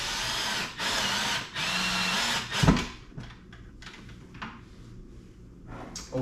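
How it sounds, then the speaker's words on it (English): Power drill or screwdriver driving into an electrical outlet cover, several loud close whirring bursts with pauses between, then quieter handling clatter. "take your drill or screwdriver and always go off center"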